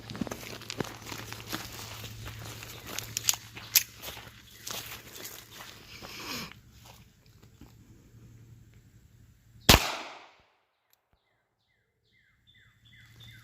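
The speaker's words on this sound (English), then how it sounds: "That was a hell of a first shot." A single sharp, loud shot from a Ruger LCP Max .380 ACP pistol rings out alone outdoors amid birdsong and rustling footsteps, its report decaying quickly into near silence.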